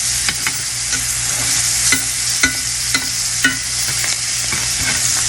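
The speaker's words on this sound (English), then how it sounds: "As that butter starts to melt, we're going to start basting." Melting butter sizzles loudly in a skillet as a steak is basted, a constant hiss broken by repeated spoon scrapes and clinks against the pan.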